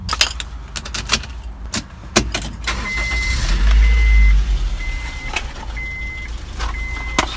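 A Honda, a CR-V or Accord that had been stalling and failing to start, cranks and catches, its engine rumbling low and rising into a steady idle; clicks and clanks sound nearby, with intermittent electronic beeps.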